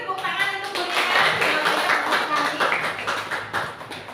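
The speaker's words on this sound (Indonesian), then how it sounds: "tepuk tangan untuk Bu Rina" Group of people clapping in a classroom or training session to applaud a participant, a steady ragged patter of hands rising and falling, with voices mixed in underneath.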